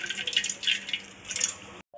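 Water trickles and drips from yogurt being pressed to drain it for dry fruit shrikhand, a close, steady splashing trickle that stops abruptly near the end.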